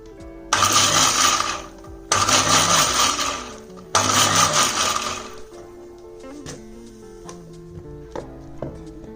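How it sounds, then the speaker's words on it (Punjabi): A kitchen blender making pomegranate juice whirs in three short pulsed bursts, each lasting a second or two, then falls quiet with only faint clinks after. "ਹੁਣ ਅਸੀਂ ਮਿਕਸੀ ਨੂੰ ਪਲਸ ਤੇ ਚਲਾਵਾਂਗੇ"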